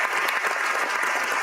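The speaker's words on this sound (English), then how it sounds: "Give him a round of applause." Applause from a studio audience on a sports talk show, a brief dense burst of clapping heard on its own.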